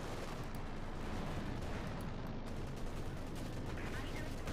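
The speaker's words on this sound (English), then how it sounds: "more explosions going off, Panthers advancing here, rolling through" Dense, continuous battle din from a Company of Heroes 2 match: rapid gunfire and repeated explosions as Panther tanks advance under bombardment, loud and unbroken throughout.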